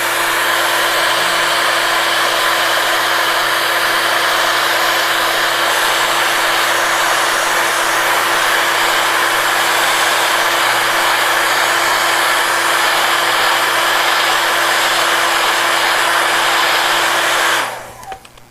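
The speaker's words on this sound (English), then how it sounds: "I'm going to take my hairdryer. I'm going to hold it in a couple spots and make it crack." A hair dryer blows steadily and loudly on wet lime plaster for a long continuous stretch, then switches off abruptly near the end, leaving a brief quiet tail.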